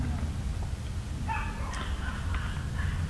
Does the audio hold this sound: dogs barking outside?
yes